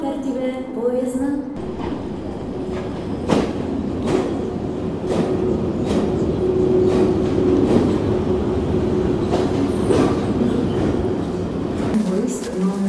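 A passenger train from Kislovodsk rolls into a station on track one, its steady rumble and rail noise holding loud and close throughout while a station announcement and voices carry over it.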